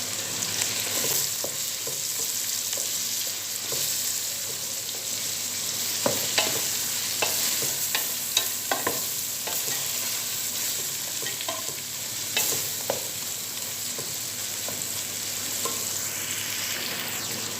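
Meat being stirred with tomato paste in a pan, a steady frying sizzle under irregular scraping and clinking of the spoon against the pan, with no talk.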